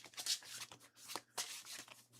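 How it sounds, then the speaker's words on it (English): A deck of level 1 cards for the board game Dice Throne Vanguard is shuffled close up, a quiet run of crisp riffling bursts and soft taps with no talk. "we're going to grab the level 1s, give them a shuffle"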